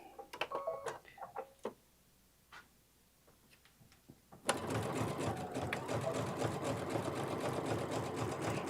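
A sewing machine runs a zigzag stitch across an advent pouch panel, starting after a few small clicks and a short pause, then humming on steadily and close up until the end.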